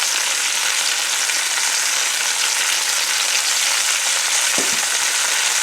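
Pot roast sears in a hot pan, giving a loud, steady, continuous sizzle and crackle that holds the whole way through, with a brief scrape of stirring near the end and no talking.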